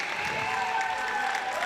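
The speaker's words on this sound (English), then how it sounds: "And a standing ovation for all the players." Crowd applause and a standing ovation at a girls hockey game in an arena, steady dense clapping from many people throughout.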